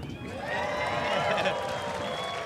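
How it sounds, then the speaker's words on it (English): A crowd at a DanceRites dance festival livestream bursts into sustained applause and cheering, a steady wash of clapping filling the space over a couple of seconds. "Can you give everyone a big cheer for day 2?"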